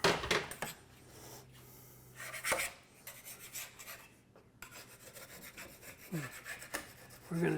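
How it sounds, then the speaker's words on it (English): A blade scrapes excess plastic wood filler off a wooden surface during a kitchen renovation, making close, faint rasping strokes in irregular bursts. "We're going to just scrape off the excess because that just removes a lot of work with the sander afterwards."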